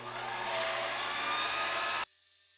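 A milling machine cutter spins in reverse rotation with a steady, dense motor whir for about two seconds, then cuts off abruptly into near silence.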